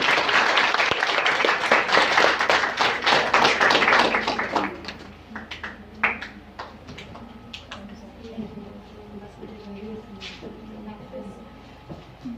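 Loud, dense audience clapping at a women's empowerment closing ceremony fills the first few seconds, then thins out into scattered claps and fades into a quieter room.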